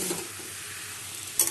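A pan of spiced cabbage sabji sizzles steadily as it fries, with one short scrape of stirring near the end.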